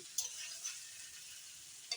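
Carrots, capsicum, beans, peas and paneer with spices frying for fried rice give off a faint, steady sizzle, broken by a few light clicks of stirring.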